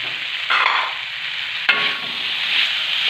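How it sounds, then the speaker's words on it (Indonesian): Tempeh stir-fry sizzles loudly in a pan, a dense steady hiss that swells as it is stirred, with one sharp clack of a utensil midway. "Kita aduk."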